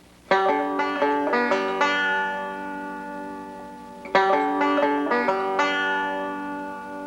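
A bluegrass banjo plays a lead-in lick: a quick run of bright picked notes, then ringing decay, repeated in a second burst, close and clear with no talking.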